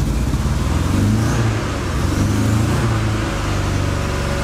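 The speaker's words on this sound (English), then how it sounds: "I'll give her some gas." A Dodge Charger engine that is running lean with a power-loss warning is given gas, its steady mid-pitched revving drone staying loud and close throughout with slight rises and dips.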